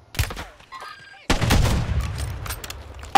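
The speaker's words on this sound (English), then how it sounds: "There's people up here sniping us." Sniper gunfire in an online shooter video game: one sharp crack near the start, then after a brief lull a louder burst of shots and rumbling fire that carries on to the end.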